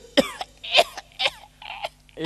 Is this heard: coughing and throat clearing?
yes